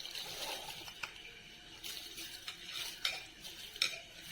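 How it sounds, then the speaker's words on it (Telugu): Uncooked rice being poured into a pot of boiling water for chicken biryani, with a few soft splashes and metallic clinks against the pot over a steady bubbling background, close and fairly quiet. "ఇప్పుడు ఇందులో రైస్ వేస్తున్నాను"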